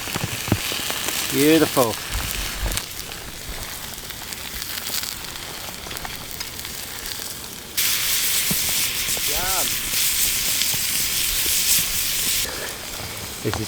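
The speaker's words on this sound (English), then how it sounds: "There's a lot of rain right now" Heavy rain pours steadily onto a bush shelter in the Australian winter, a dense continuous hiss that swells louder partway through, with someone speaking briefly over it.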